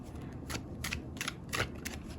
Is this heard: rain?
no